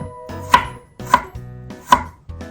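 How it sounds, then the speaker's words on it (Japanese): A kitchen knife thinly slices burdock root, down to the end pieces, on a cutting board: three distinct crisp chopping strikes at an even pace, with a fourth starting at the end, close and clear, no talking. "こういう端っこのところもね、包丁で薄切りにしちゃってください。"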